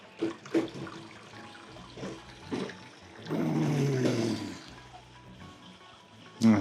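Beer wort flows from a brew kettle with a bottom drain via a pump on a Spike Solo 10-gallon system, heard as intermittent gurgling and splashing, with a louder rushing flow in the middle and brief knocks.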